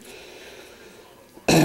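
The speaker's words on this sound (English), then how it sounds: "You have to excuse my coughing." After a stretch of quiet room tone, a person suffering from allergies lets out one sudden, loud, close cough at the very end.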